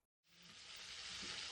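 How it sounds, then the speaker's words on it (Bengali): Pointed gourd slices sizzling in hot oil in a wok, a loud steady hiss of frying that starts abruptly after a brief silence and holds close and even throughout, with no voices. "এরপর কড়াইয়ে তেল গরম করে একে একে পটলগুলো দিয়ে দিচ্ছি।"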